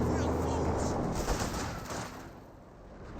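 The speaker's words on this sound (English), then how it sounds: "we got the conscript now receiving some fire from the Panzer IV, as well as the HMG" Gunfire from a Panzer IV tank and a heavy machine gun in Company of Heroes 2 rattles through a loud battle mix that fades toward the end, with scattered bursts and impacts.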